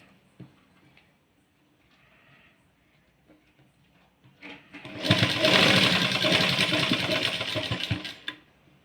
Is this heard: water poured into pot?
no